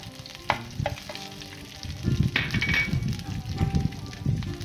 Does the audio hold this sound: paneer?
yes